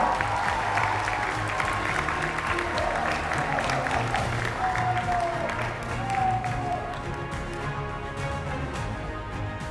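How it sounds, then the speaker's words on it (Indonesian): Audience applause at a university leadership forum in Indonesia, a broad steady clatter of clapping with some cheering, gradually easing off toward the end, with faint voices mixed in. "Kita berikan tepuk tangan."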